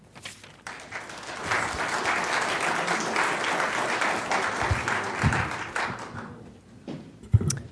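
An audience at a lecture on laser inertial fusion energy applauds to welcome a speaker, steady sustained clapping filling the room for several seconds before thinning out into a few scattered claps.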